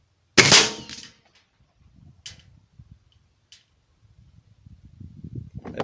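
A Gamo Shadow DX air rifle fires once, a sharp close crack with a quick ring of impact, followed by near silence broken by a couple of faint clicks and some low handling noise.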